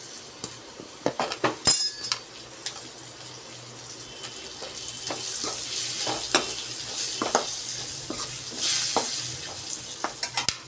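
Potato pieces sizzling and frying in a pan with red chili for a papaya and soybean curry, a steady hiss broken by spoon clinks and stirring scrapes, with no talking.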